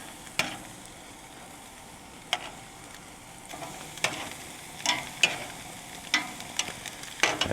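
Pork chops fry in a pan over medium heat, a quiet sizzle broken by scattered sharp pops and clicks that grow a little busier toward the end.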